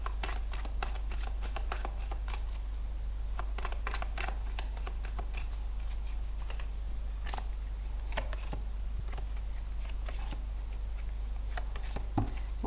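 Tarot cards are shuffled and drawn by hand close up, with a steady run of quick papery riffles, flicks and taps over a constant low hum.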